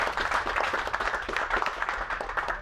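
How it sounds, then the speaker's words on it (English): An audience at the Bay County Sports Hall of Fame announcement party applauds, a dense burst of clapping that stays full and steady for a couple of seconds. "Give them a big round of applause"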